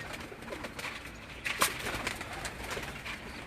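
Pigeons coo at a rural dera among scattered bird calls, soft and a little distant, over a noisy outdoor background with a brief louder clatter midway.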